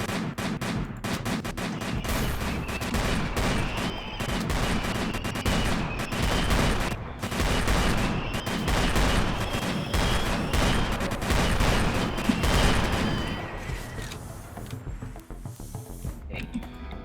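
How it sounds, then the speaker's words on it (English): Rapid video game gunfire in a continuous dense barrage for most of the stretch, loud and close, with mechanical clatter layered in before it thins out near the end. "So rapid fire."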